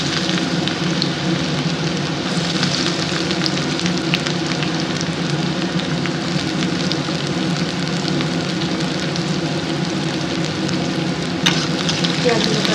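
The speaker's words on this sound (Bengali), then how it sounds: "পেঁয়াজগুলোকে আমি খুব ভালোভাবে লাল লাল করে ভেজে নেব" Chopped onions fry in very hot mustard oil in a pan, giving a loud, continuous close-up sizzle with crackling spits throughout.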